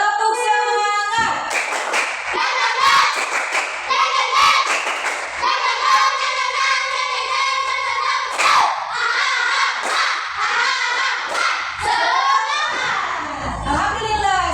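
Elementary schoolchildren in a classroom stand and do a spirit clap together, voices chanting in unison over a quick run of rhythmic claps and thumps that fill the room, steady and loud throughout.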